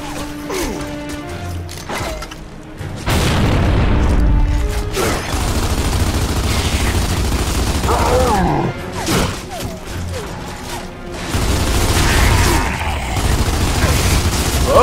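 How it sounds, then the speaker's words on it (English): Grenade blast and gunfire in Gears of War 2: a sudden heavy boom around four seconds in, followed by sustained rumbling combat noise, scattered crashes and bursts of shots, with voices talking over the action. "it's a really good time for a grenade"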